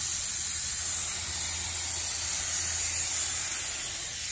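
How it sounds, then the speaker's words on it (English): Liquid sprayed onto carbon wrap film in one continuous pass, a steady close hiss of spray holding evenly for several seconds with no voices. "So I'm going to go ahead and spray this."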